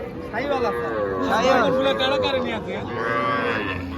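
Young Sahiwal calves at a cattle market moo repeatedly in long, drawn-out calls, loud and close, over a steady background of crowd babble.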